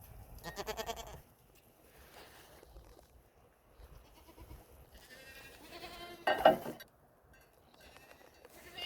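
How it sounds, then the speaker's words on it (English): A goat on an off-grid homestead bleats in several separate calls, some loud and close, others fainter, with quiet gaps and a little background movement between them. "He's not a very friendly goat."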